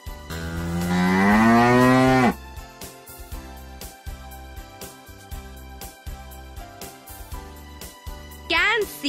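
A long, loud cow moo rises and falls over soft background music, followed later by a short animal call.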